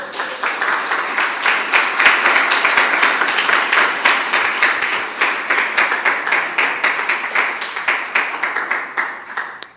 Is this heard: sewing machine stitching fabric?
no